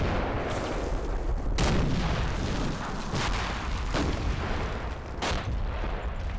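Anti-aircraft gun and artillery fire in the Combat Mission Red Thunder war game, a continuous roar of battle noise broken by several sharp, loud booming shots spaced a second or so apart, with no voices.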